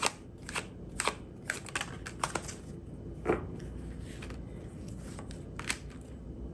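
Tarot cards shuffled during a card reading, giving a series of soft, quick riffling and flicking bursts at irregular intervals over a low background hum, close and fairly quiet.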